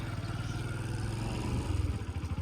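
A motorcycle engine idles and runs steadily nearby, a throbbing low putter with a faint mechanical clatter that rises slightly in loudness toward the middle, heard alone without talk.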